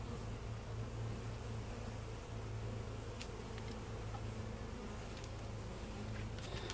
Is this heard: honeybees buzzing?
yes